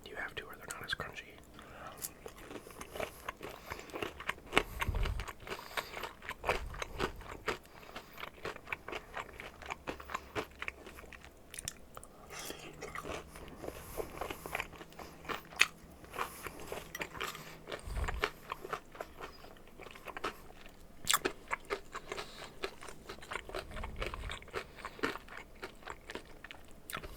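Close, crisp crunching and chewing of well-done fried chicken tenders repeats irregularly throughout, with soft whispered talk between bites.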